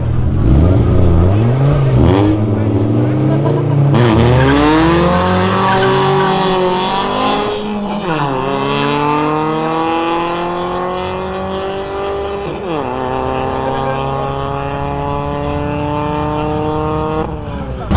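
Street racing cars in São Paulo, one up against a naturally aspirated Fox, accelerate hard: loud, close engines rev and climb in pitch through several gear changes, roaring continuously with no pauses.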